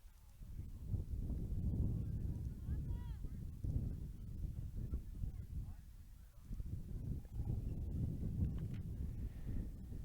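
Breezy wind blows across an outdoor soccer field at St. Louis Community College-Florissant Valley, a low steady rumble with brief dips, heard fairly faintly throughout.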